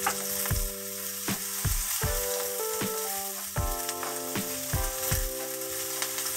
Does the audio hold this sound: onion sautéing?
yes